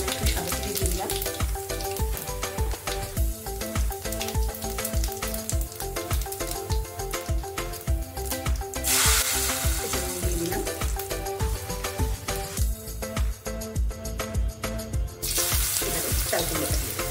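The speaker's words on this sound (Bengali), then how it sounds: "ওভেনে একটা কড়া বসিয়ে দিয়েছি, তেল গরম হয়ে গেছে।" White oil heating in a kadai on a stove gives off a steady, loud sizzle that continues unbroken throughout.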